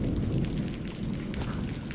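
Thunderstorm with heavy rain in a cartoon rainy-day scene: a dense, steady downpour under continuous low rumbling thunder, loud and close throughout, with no voices.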